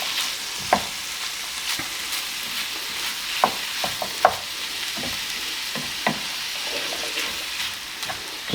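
Lasagne sauce sizzles in a pan while a spoon stirs it gently, bringing scattered scrapes and clicks over a constant close frying hiss, with no talk.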